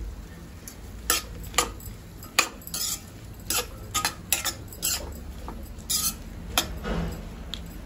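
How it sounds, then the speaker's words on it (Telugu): A lid goes onto a cooking pot in a home kitchen, making a series of light metallic clanks and taps scattered over several seconds, close by and with no talking. "దీని మీద ఇప్పుడు నేను మూత పెట్టేస్తాను."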